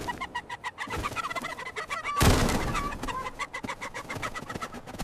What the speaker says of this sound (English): Get this chicken off my head!